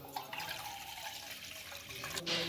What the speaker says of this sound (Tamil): இப்போ நம்ம தண்ணி ஊற்றிக்கலாம்.